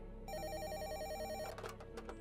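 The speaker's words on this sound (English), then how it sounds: "The phone rang again." An electronic telephone ringtone sounds in a quick warbling burst, then breaks off into short fragments, clear and close with no talk.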